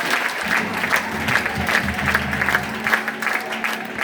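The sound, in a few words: applause for choir in church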